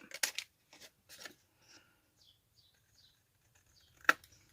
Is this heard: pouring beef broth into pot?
no